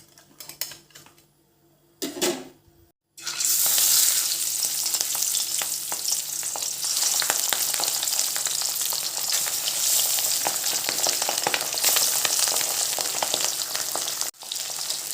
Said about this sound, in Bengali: এখন আমি মাছগুলো ভাজা করে নেব